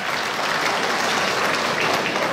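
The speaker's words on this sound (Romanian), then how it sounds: "Aplauze pentru domnul profesor universitar," A crowd at a Romanian party celebration for women applauds the university professor Vasile Dâncu, a thick, steady roar of clapping that stays level throughout.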